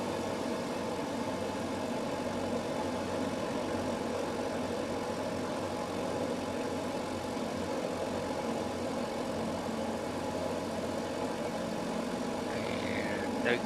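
Throttled-back C-47 piston engines on final approach in a flight simulator, a steady low drone and hum that holds level and unbroken from start to finish, with no voices over it.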